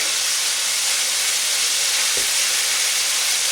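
Curry sauce for vegan veggie koftes frying in a pan gives a steady, loud sizzling hiss throughout, with one brief low thump midway.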